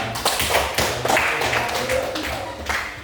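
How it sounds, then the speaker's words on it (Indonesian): Scattered hand claps from a small audience in a classroom discussion session, a handful of sharp taps at irregular intervals over about three seconds, fairly close and moderately loud, with a faint voice underneath. "kita beri aplaus lagi sudah"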